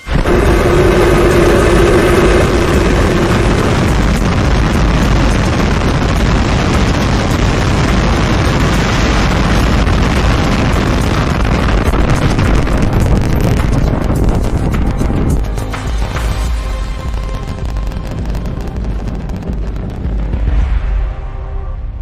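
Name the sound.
SpaceX Starship rocket liftoff and engine roar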